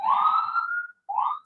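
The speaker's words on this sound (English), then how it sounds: "can hear the sirens of New York City, which are always much too loud" New York City emergency vehicle sirens wail in a rising, sustained tone, break briefly, then start again, clear and fairly close with no voices.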